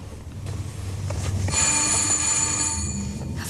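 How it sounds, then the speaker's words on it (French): A doorbell rings at someone's door, a sustained bright electric ring that starts partway through and continues steadily over low background rumble. "Réveille-toi, quoi, on a sonné."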